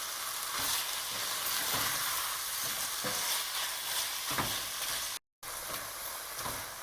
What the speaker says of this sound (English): add my garlic and ginger. Lower the flame a little bit, so you don't want the garlic to burn. And just keep stirring.